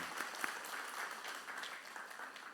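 A church congregation gives applause of encouragement to a visiting missionary family: soft, sustained crowd clapping, fairly distant and steady throughout.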